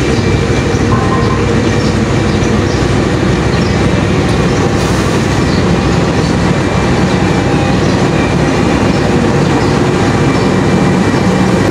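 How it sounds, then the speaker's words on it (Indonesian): The Brawijaya passenger train rolls into track 3 at Kroya station, a loud, continuous rumble with wheel clatter and faint squeal, steady and close throughout. "kereta api Brawijaya mulai memasuki jalur 3 stasiun Kroya"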